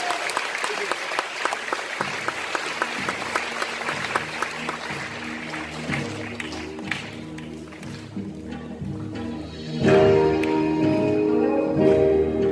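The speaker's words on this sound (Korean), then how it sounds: "박수치기 굉장히 대단한 박수입니다." Concert audience at a healing concert by a popera singer claps in a crisp, dense patter that gives way to music and then swells louder near the end.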